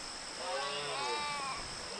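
Goats bleat in the farming game Rimworld, a single wavering bleat rising and fading over a steady background drone, fairly faint.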